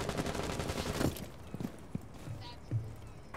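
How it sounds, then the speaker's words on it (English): Gunfire in a video game: a quick rapid burst of shots opens, followed by a few scattered single reports, with players talking over the action. "Hey, you wanna see my recoil control with this gun?"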